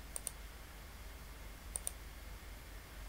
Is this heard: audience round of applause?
no